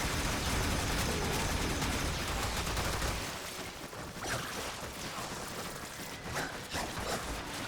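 Weapons fire steadily in the video game Warframe, a dense loud barrage for the first three seconds that then thins into scattered shots and bursts.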